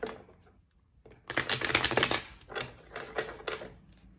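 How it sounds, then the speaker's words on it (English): A deck of tarot cards is cut and handled, giving quick papery riffles and soft snaps in short bursts, close by and fairly quiet, with no speech. "10 of Pentacles coming up as I cut the deck"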